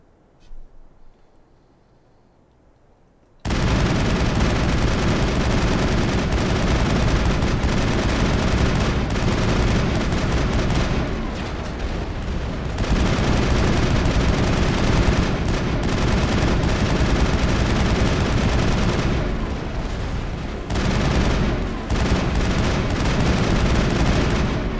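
Sustained gunfire in the sci-fi shooter Mass Effect bursts in suddenly after a quiet start and becomes a dense, continuous roar of weapons fire and explosions. It stays loud and close with only brief dips throughout.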